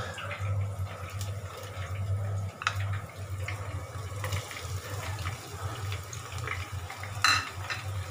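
Chopped onion and ginger garlic paste frying in a pan while being stirred, giving a soft sizzle with scraping and clinking of the spoon, plus occasional watery sounds in the background.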